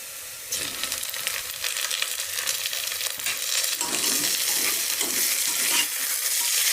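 Onion and tomato sauté in a pan, giving a bright, close crackling sizzle with stirring scrapes that build and grow louder toward the end, with no one speaking.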